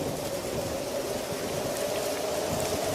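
Stormy night rain in a cartoon, a dense continuous hiss of rainfall pouring on surfaces with a low rumbling undertone, steady and unbroken, no voices.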